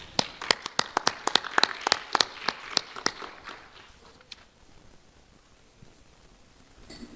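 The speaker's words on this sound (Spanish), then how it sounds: "Lo recibimos con un fuerte voto de aplausos." Audience applauding at a cultural talk on Diablada Puneña folklore in Puno, a burst of sharp claps that thins out and fades to a quiet room.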